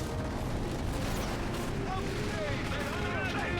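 Stuka loiter air strike in Company of Heroes 3, a dense rumble of distant explosions and battlefield bursts running continuously, with someone talking over the din.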